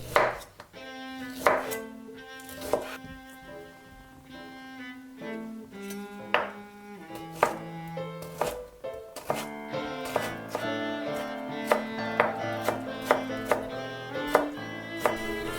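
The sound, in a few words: chopping bamboo shoot into cubes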